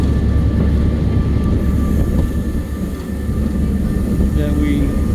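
An open caboose rolls along the tracks at the Galveston Train Museum, giving a steady, loud rumble of wheels and car noise that runs throughout with a faint squeal near the end.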